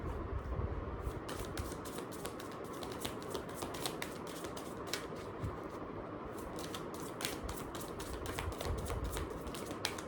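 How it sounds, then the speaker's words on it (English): Tarot cards being shuffled by hand, alone, continuous crisp riffling and slapping of the deck for ten seconds with rapid repeated flicks, close and fairly quiet. "So let's begin shuffling."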